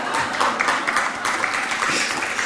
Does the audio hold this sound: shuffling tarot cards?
no